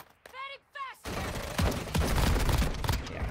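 Rapid bursts of gunfire in the mobile shooter Warzone Mobile, dense crackling shots following brief spoken words at the start.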